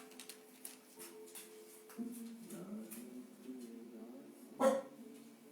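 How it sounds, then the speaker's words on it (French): A dog barks several times somewhere nearby inside a home during a yoga class, short yips and barks rising over quiet room sound, with one louder bark near the end. "Vous entendez le chien?"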